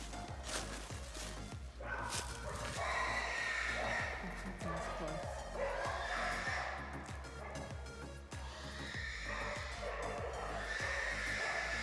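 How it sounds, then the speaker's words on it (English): Dogs bark in the distance along a forested Missouri Ozark trail, the sound of a possible boar-hunting scene, with repeated yips and howl-like calls rising over steady background noise while people talk nearby. "I think we hear dogs off in the distance."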